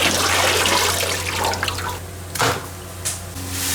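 Pork ribs being washed in a kitchen sink, running water rushing loudly and steadily up close, with brief splashes and sloshes as the ribs are handled, and no talking.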